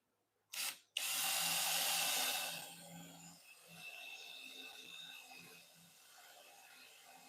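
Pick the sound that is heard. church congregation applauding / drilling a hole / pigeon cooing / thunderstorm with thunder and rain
drilling a hole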